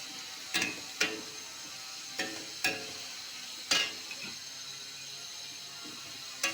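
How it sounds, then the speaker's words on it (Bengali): Potato, pointed gourd and soybean fry in a pan with a soft steady sizzle, punctuated by sharp, irregular clacks of a spatula stirring against the pan, close by and without speech. "এরপর আমি সয়াবিনটা দিয়ে দেবো ওর মধ্যে, একসঙ্গে ভালো করে একটু ভেজে নেব"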